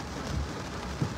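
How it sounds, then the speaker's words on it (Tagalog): Rain falls in a short, fairly faint wash of soft patter, with a couple of heavier drops or low thumps. "Ngayon, ulan din."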